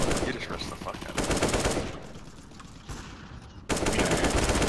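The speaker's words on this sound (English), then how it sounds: "I'm shooting at him! He gets 6 shots, I get 1, but I put like 30 bullets into him" Gunfire in the video game Counter-Strike: Global Offensive comes in rapid automatic bursts, loud at the start and end with a quieter gap between. A voice briefly speaks.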